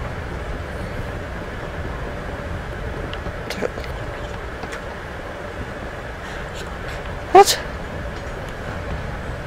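Train wheels roll along the rails in the video game Life is Strange: Before the Storm, a steady rumbling hum that fills the background throughout, with one short spoken word and a faint clatter partway through.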